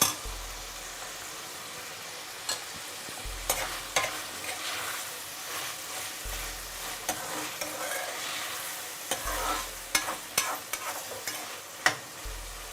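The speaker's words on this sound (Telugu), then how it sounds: "ఇప్పుడు అల్లం కూడా వేస్తున్నానండి." Ginger stirred in a frying pan for tomato pickle, with a steady sizzle under repeated scraping strokes of the spoon at close range and no talking.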